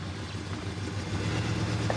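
A $200 abandoned muscle car rescued from a junkyard runs its engine while backing up a few feet, a steady low rumble with a slight rise toward the end and no voices.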